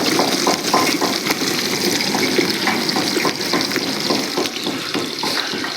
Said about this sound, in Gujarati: તમારે જેટલી ક્વોન્ટિટીમાં ડુંગળી કરવી હોય એટલી ડુંગળી પહેલા તળવી પડશે।